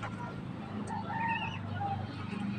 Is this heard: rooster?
yes